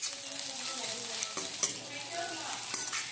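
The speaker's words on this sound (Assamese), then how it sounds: "এয়া পিঁয়াজখিনি অকণমান ভাজি লৈছোঁ।" Chopped onions frying in a pan while being stirred, with a steady close sizzle broken by a few sharp scraping stirs across about three seconds.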